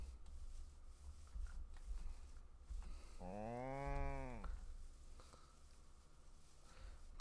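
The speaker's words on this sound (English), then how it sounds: "He's a moo cow." A single cow moo from the Minecraft Pixelmon video game, lasting about a second in the middle of the clip and rising above a constant low game background rumble, with no voices.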